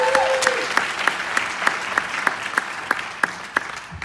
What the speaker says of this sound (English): Have a big hand for all of our soloists.